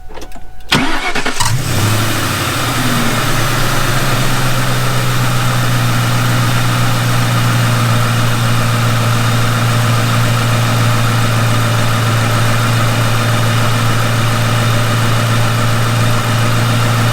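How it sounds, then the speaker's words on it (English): A car engine cranks briefly and catches just after its engine bay has been washed, then holds a loud, close, steady idle for the rest of the stretch. "I'm going to start the car up."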